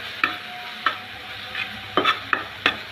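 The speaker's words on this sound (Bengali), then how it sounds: "এখন আমি নেড়ে চেড়ে ভালো করে ভেজে নিব।" Coriander leaves and gram flour being stirred in a pan, a soft sizzle underneath and about six sharp scraping strokes from the spoon at irregular intervals, close by.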